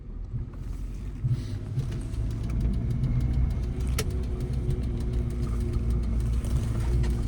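A car engine runs steadily during a driving lesson, a continuous mid-pitched hum that builds slightly as it speeds up, with a single sharp click partway through and no talk over it.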